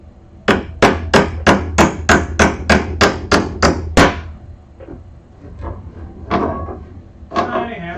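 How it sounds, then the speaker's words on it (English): A small hammer drives nails in a workshop, with about ten sharp, evenly spaced strikes in quick succession up close, then a few softer knocks and handling sounds. "Tiny hammer to the rescue."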